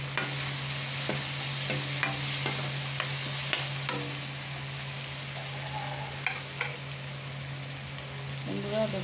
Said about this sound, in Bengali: দেখুন চিংড়ি মাছ ভেজে রেখে দিয়েছি, এই ঢেলে দিলাম, দিয়ে একটু নাড়াচাড়া করে নেবো।